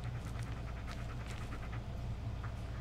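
A dog pants steadily in the Blair Witch horror game, with rapid rhythmic breaths over a low, constant background rumble, close and continuous with no talk.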